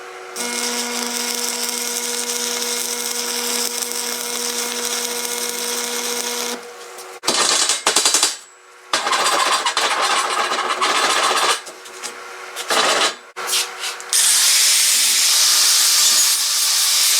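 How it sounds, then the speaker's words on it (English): Angle grinder working the welded corner of a steel door frame, a high whining hiss in long passes broken by brief pauses and restarts, close and loud with no talking. "on this corner I'll probably go ahead and grind this corner down"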